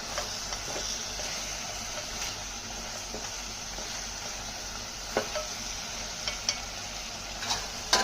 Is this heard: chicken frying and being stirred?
yes